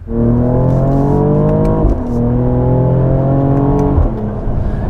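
A 2022 Mercedes-AMG GLE 53 accelerates hard on a test drive, its engine note climbing loudly and smoothly through a gear, dipping at a shift, then rising again before easing off.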